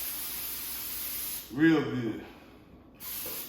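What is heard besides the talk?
no-stick baking spray sprayed onto aluminum pan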